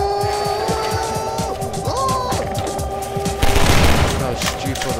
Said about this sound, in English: Is that like a machine gun or something?